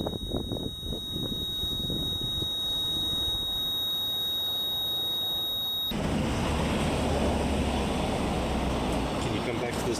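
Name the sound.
REM pod ghost-hunting device emitting changing tones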